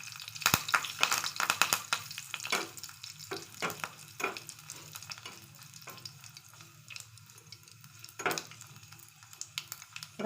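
Hot tempering oil with red chillies is poured over ground mint chutney, setting off a crackling sizzle with sharp pops and spoon clinks that fades and flares again, fairly quiet and close, with no speech.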